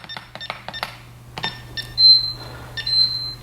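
Eufy home alarm system arming itself, giving a series of short electronic beeps in irregular bursts followed by longer sustained tones, close and clear over a steady low hum.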